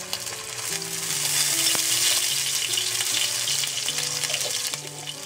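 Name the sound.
ginger paste and minced garlic frying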